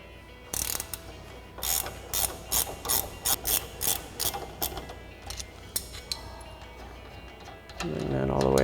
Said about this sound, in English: So we'll get our ratchet wrench on to our nut and our socket onto our stud.